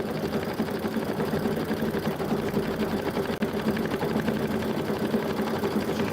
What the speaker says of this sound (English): Another reason I do stippling is because it's all one pass.